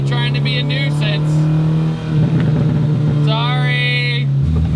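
Modified VW Golf 2.0 engine pulling hard while driving, a steady loud drone with shifting whine overtones that dips briefly mid-way then surges again, close-up from inside the car, with talk over it.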